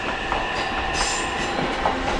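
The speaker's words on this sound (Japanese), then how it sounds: "11番線の電車、ただいま発車をしております。" A commuter train pulls away from a platform at a Tokyo-area station, its continuous rumbling wheel and rail noise filling the scene with brief squeals and clacks, close and steady with no talk.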